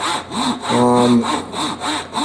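A Japanese pull saw, a 24 TPI Zona razor saw, rasps through a large piece of wood in steady back-and-forth strokes, close by, with one longer stroke in the middle.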